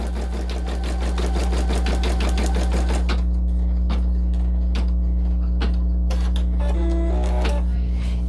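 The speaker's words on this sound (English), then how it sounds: "I'm going to stitch out the placement stitch, which is going to be the placement stitch for the star" An embroidery machine stitches out a placement stitch for a star on a greeting card in a 5x7 hoop, giving a loud, steady mechanical whir with rapid rhythmic needle ticking over a constant motor hum, with no voices.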